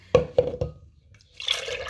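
Almond milk poured into a protein smoothie: three short drip-like taps, then a soft, splashy pour near the end, close and fairly quiet.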